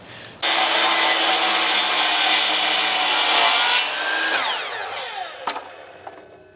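A miter saw cuts through plywood support ribs in one loud, sustained whining cut, then the blade spins down with a few small knocks afterward.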